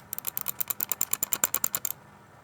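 A rapid run of crisp clicks from a Logitech MK220 wireless mouse, about twenty in quick succession, close and clear, then stopping.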